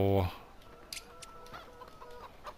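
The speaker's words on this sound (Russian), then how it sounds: "Курочки ходят." Chickens in the farming video game Farming Simulator 15 cluck in soft, scattered bursts at moderate distance, following a loud low thump at the start, over a steady ambient background.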